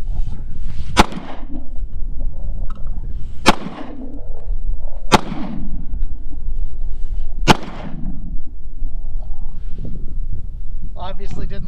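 Four sharp, loud pistol shots ring out at irregular intervals, each with a short echoing tail, from a Ruger 9mm handgun fired for comparison against a Hi-Point C9; someone talks throughout.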